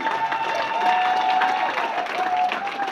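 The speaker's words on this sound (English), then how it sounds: "Let's give a big round of applause." Hall of fame induction crowd at Murray State for a men's basketball inductee applauds steadily, a dense wash of clapping with light cheering, sustained and fairly loud throughout.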